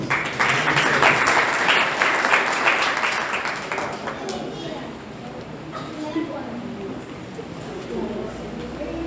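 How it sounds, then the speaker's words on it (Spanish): A crowd at a school graduation ceremony applauds loudly for about four seconds, then the clapping fades into scattered claps and room noise. "La recibimos con un fuerte aplauso."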